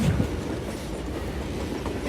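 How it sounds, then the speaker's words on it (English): Train rolling along steel rails in the Western shooter game Call of Juarez Gunslinger, a steady rumbling roar with faint rhythmic clatter, heard alone. "It was definitely safer on the inside of the train."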